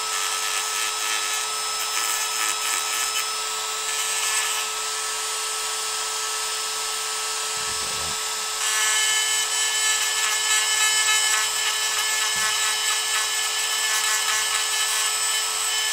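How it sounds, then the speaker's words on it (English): A Dremel rotary tool roughs up small magnets, giving a steady high-pitched whine and grinding rasp that runs without a break, growing louder and harsher partway through as it bites harder, with brief low knocks and no talking. "It's just a Dremel. Need to rough up the magnets so they actually stick on."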